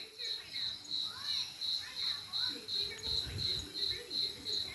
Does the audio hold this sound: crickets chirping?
yes